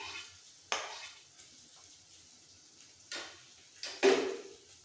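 Chopped onions and green chillies, with dried red chillies, fry quietly in a pan under a soft sizzle, broken by a few sharp scrapes and clinks of a stirring spoon. No one speaks.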